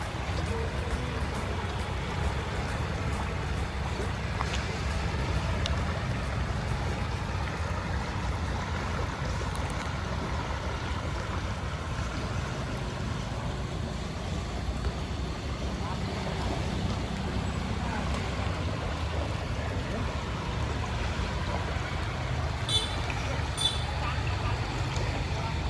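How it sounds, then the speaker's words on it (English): Steady river flow near Sapua Dam in Dhenkanal, Odisha, a continuous broadband wash of moving water with outdoor ambience, even and unbroken throughout. "if you just listen to the river flowing and the whole ambience"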